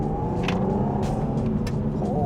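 A Mk2 Audi TT with a V6 engine drives along tight, potholed country lanes, giving a steady close engine rumble with road noise and a few brief rattles and knocks.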